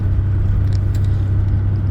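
Big trucks on a road at a South Lake Tahoe ski resort give off a steady, deep engine rumble, constant and fairly close, with no voices.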